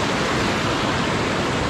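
Strong rush of a swollen river just after rain, a dense, loud, continuous roar of turbulent water with no pauses and no voices.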